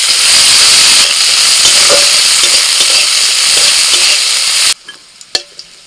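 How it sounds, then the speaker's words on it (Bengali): Cashews and raisins fry in ghee with a loud, dense sizzle that runs continuously, then cuts off abruptly, leaving a few light clinks of a utensil. "ঘিয়ের মধ্যে কাজু আর কিশমিশ ভেজে নেবে"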